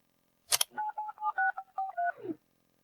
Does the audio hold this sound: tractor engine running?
no